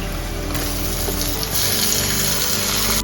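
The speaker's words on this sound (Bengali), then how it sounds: "কুচি করে রাখা টমেটোগুলো দিয়ে দেবো।" Chopped tomatoes go into onion masala frying in a pan, and a constant close hiss swells slightly louder partway through and then holds steady.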